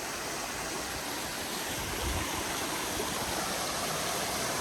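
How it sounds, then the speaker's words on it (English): A waterfall with clear water on a hiking trail in the Michael Ciaiola Conservation Area, Patterson, New York, pours in a loud, steady, unbroken rush heard close up, with no voices. "It is this beautiful waterfall with really clear water."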